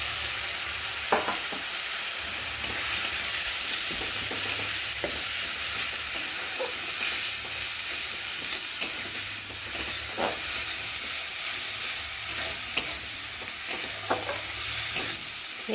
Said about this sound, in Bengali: একটু ভালো করে মশলাটা কষিয়ে নেবো